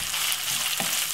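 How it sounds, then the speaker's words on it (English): A handful of saltfish fries in a frying pan, a dense, continuous sizzle close to the mic with small crackling bursts, heard alone without talk. "Is put 1 handful of saltfish inside of the frying pan."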